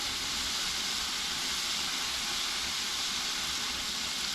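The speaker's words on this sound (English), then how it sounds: "That's what's happening when you're frying. The oil is pulling all the moisture out." Vegan chick'n and mushroom pieces fry in hot oil with a dense, steady sizzle and hiss that fills the whole moment without letting up.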